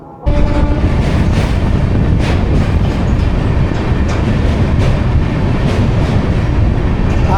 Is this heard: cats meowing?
no